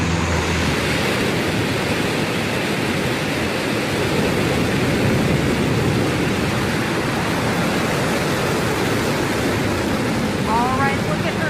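A dense, steady roar of broadband noise holds loud and unbroken throughout as a Blue Origin New Shepard rocket engine thunders at launch, heard from a distance.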